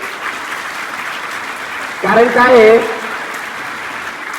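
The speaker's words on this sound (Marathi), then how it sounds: "एकदा जोरदार टाळ्या झाल्या पाहिजेत" An audience at a Shiv Jayanti lecture gives a steady, hissing round of applause that continues throughout, and a voice speaks briefly over it midway.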